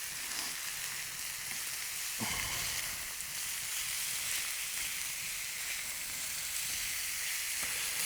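Bone marrow sizzles as it melts in a giant wok on a Vulcanus grill, a steady, loud, close hiss of frying fat with a few sharper bursts, heard alone.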